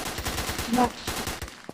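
Rapid bursts of automatic gunfire from the online shooter game Polywar crackle in quick succession, dense and close, with a faint voice briefly underneath.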